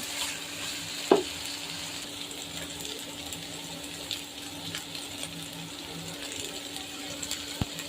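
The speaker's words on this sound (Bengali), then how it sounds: "পেঁয়াজ, তারপর ভালোভাবে নাড়িয়ে নেব।" Onion frying in a pan with a steady low sizzle, stirred now and then, with an occasional sharp clink of a utensil against the pan.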